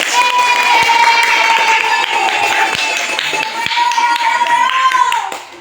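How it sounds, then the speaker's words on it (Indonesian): Classroom of children clapping for a small group of classmates, a sustained burst of claps with high children's voices chattering and cheering over it, fading out near the end. "tepuk tangan untuk kelompok Ragil"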